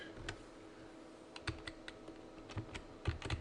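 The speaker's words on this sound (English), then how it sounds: "I hit the arrow keys" Computer keyboard arrow keys tapped while reshaping a roof model in X7 drafting software, giving quiet, scattered clicks in irregular short bursts over a low room hum, with no talking.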